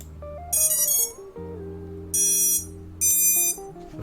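Drone motor controllers on an Apex 3 quadcopter build emit a sequence of loud, close electronic tones: rising musical startup notes followed by two sustained high beeps, with no talking.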